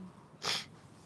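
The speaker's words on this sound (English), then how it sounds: "We keep sneezing today." One short, sharp sneeze during a casual livestream chat, a brief burst of breath standing out from a quiet background.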